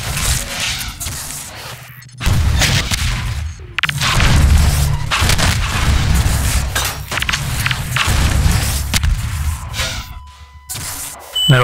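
Repeated rocket blasts and heavy impacts in a Half-Life 2 Deathmatch match, a dense run of loud booms and crashes filling nearly the whole stretch with brief gaps.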